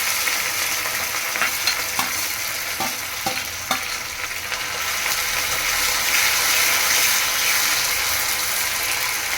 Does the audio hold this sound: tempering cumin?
yes